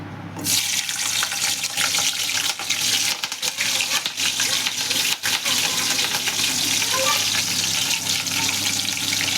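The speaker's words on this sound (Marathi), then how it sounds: "आता या तेलामध्ये आपण या सर्व भाज्या एक एक करून टाकूया।" Capsicum and other vegetables go into hot oil for pasta, giving a steady, loud, close sizzle that runs unbroken through the whole stretch.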